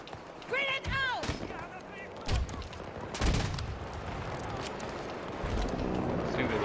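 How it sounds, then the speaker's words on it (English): Bursts of gunfire and a grenade blast in a Battlefield 2042 firefight, sharp cracks and rumbling booms recurring through the clip, with a player talking over the chaos. "Grenade out!"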